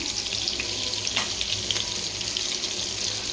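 Eggplant fries in hot oil with panch phoron five-spice and bay leaf tempering, making a dense, continuous sizzle and crackle close by, with a few sharper pops.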